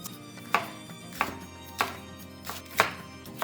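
A knife chops vegetables on a board in a loose, steady rhythm of about six distinct close thuds, each clear and sharp against a quiet kitchen.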